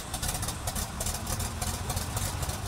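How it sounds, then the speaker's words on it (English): A 1956 Oliver Super 77 tractor engine idles steadily, a loud, even low rumble with a fast chugging pulse that holds constant throughout, close by with no voices. "The tractor you're looking at is a 1956 Oliver Super 77."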